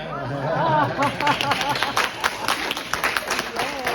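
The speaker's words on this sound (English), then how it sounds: "to give her a round of applause" An audience at a talk about children breaks into applause. A voice is heard at first, then many hands clap in a dense, fairly loud patter that swells and wavers over a few seconds.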